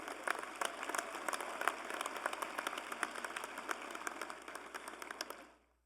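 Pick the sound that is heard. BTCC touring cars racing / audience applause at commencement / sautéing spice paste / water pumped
audience applause at commencement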